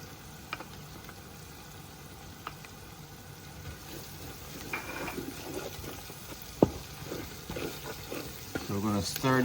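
Tomato paste stirred into a sizzling jerk curry base with ginger in a pot, a soft steady frying hiss with scraping and knocking of the spoon growing busier toward the end, while a person talks over it.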